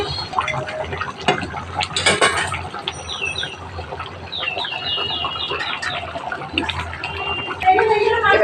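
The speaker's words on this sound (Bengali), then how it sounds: "জলের জন্য গরম জলটাই দিচ্ছি।" Hot water is poured into chicken curry simmering in a pan, with a short splashy burst of pouring near the start over steady kitchen background noise and occasional high chirps.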